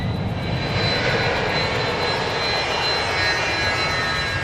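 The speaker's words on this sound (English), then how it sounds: "He's cleared to take off. He's spooling it up. He's going to go right now." Airplane engine spooling up for takeoff on a runway, a loud continuous roar with a steady high whine, close and filling the whole stretch.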